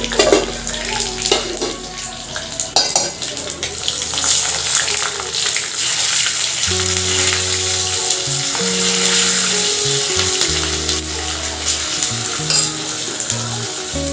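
Peanuts frying in oil for pulihora, a loud continuous sizzle with stirring clatter, while music with sustained notes plays underneath from the middle onward.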